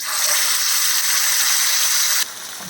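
Chicken pieces deep fry in hot oil, a loud, dense, close hiss of bubbling that cuts down sharply to a quieter sizzle partway through.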